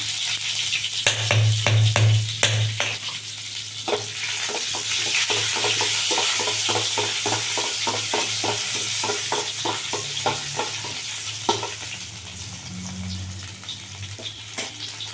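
Cumin, curry leaves and garlic fry in hot oil for moong dal thovve, a loud close crackling sizzle with a burst of spattering at the start, then steady frying with rhythmic rattles of stirring.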